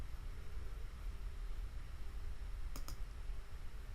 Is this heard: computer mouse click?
yes